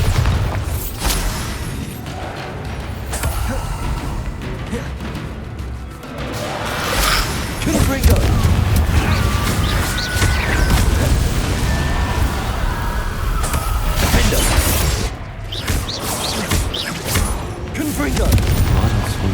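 A Confringo fire spell from Hogwarts Legacy bursts into booming explosions amid whooshes and crashes during combat, forming a dense, loud, sustained barrage.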